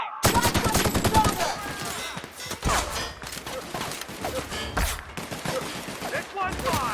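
Rapid exchange of gunfire in the sci-fi shooter The Outer Worlds: dense automatic bursts up front, then scattered louder single shots and impacts through the rest, with game voices calling out over the fighting.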